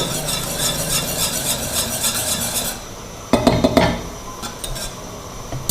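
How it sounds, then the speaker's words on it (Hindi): A beater stirs a cooking almond sharbat mixture in a pot, first a steady rhythmic scraping swirl, then a brief pause followed by clinking knocks against the pot's side and quieter scrapes. "बीटर लेके अच्छी तरह आपने इसको ऐसे मिक्स करना है, ताकि जो है इसके अंदर गुठलियाँ वो ना बने"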